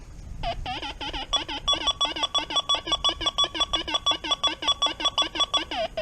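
XP Deus II metal detector in square pitch tone gives a rapid train of squarish electronic beeps, steady and close, repeating several times a second for most of the stretch after a brief soft rustle.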